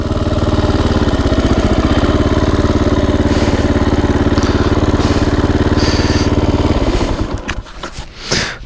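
A 2010 Honda CRE 125 enduro motorcycle's engine idles steadily and loud up close, a continuous low thrum with mechanical clatter, then drops off near the end as handling noises and faint movement take over.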